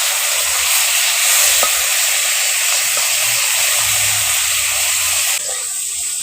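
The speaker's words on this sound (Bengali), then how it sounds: "আমি এর মধ্যে এখন চিংড়ি মাছগুলো দিয়ে ভেজে নেব" Prawns fry in a hot pan while being stirred, giving a steady, loud oil sizzle with brief scraping touches of the spatula throughout, easing slightly near the end, with no talking.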